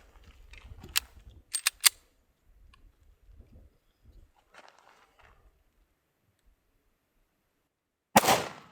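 Rifle shots with a red dot sight during outdoor target shooting, a few sharp cracks early and one louder report near the end, separated by quiet stretches of faint background noise.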